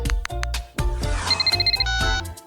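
A phone ringing as a call is placed, a repeating electronic ring tone in short beeping bursts, up close over thumping background music.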